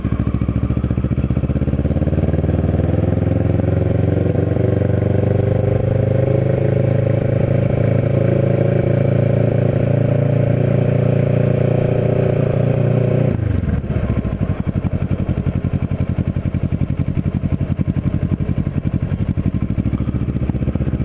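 A Kawasaki Ninja 650R motorcycle riding through town streets in West Cape May, its engine droning steadily and close with rising pitch under acceleration, then dropping sharply as the rider shifts and carries on with a rougher, lower hum.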